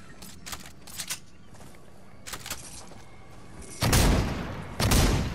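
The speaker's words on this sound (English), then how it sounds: "Oh, that is a weird shotgun." Shotgun blasts in the video game Fortnite: scattered sharp gunfire bursts, then two loud close booming shots near the end.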